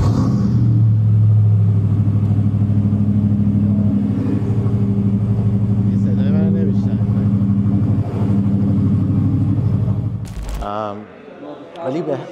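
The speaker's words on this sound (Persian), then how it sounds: "صداش از همه ماشینایی که اینجا داره بلندتره" Loud custom-built supercar engine revving at a car collection garage, a deep sustained roar holding steady for about ten seconds before cutting off, with a voice talking over it.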